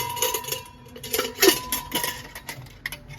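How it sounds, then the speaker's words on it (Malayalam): Steel dishes clinking and knocking as they are set onto a kitchen rack made from an old chair, a few close metallic clatters spread across the moment with no talk. "സ്റ്റീൽ പാത്രങ്ങളൊക്കെ നമുക്ക് വെക്കാൻ കഴിയും."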